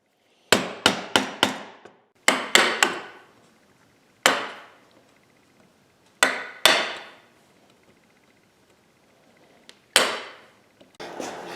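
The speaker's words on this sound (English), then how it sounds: "you can put your chisel right down on that line." A chisel is struck along a scored line in wood while cutting dovetail joints, giving sharp, close mallet taps in quick clusters of two to four, separated by short pauses.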